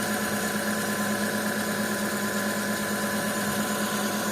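A steady, even engine hum from a 2008 Renault Grand Scenic 2 with a 1.6 petrol/gas engine idles close by, smooth and unchanging throughout with no voices.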